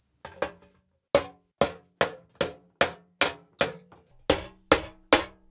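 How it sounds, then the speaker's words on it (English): Hammer striking a silver plate held on a metal stake: about a dozen sharp, ringing metallic blows at a steady, unhurried pace, close and clear with no talking. "He hammers carefully, watching as he works,"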